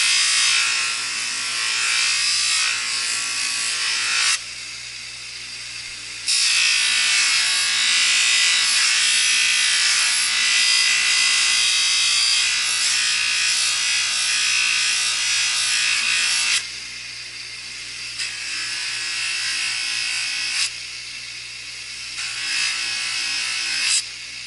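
A carbon steel knife blade being polished with fast cutting compound, a loud continuous buzzing, rubbing whir that stops and restarts in a few long passes, with short quieter gaps between them.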